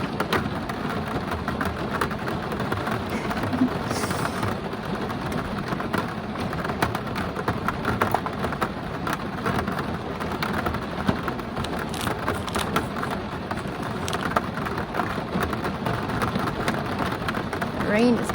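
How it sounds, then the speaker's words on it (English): Rain pouring down outside onto a wet, muddy yard after snow and ice, a constant dense patter with scattered heavier drops and faint distant rumbles underneath. "Rain is coming down over it."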